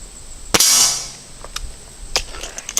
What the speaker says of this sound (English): So I'm going to shoot off to the right there, I guess, and a little above, and see if I can find a good spot.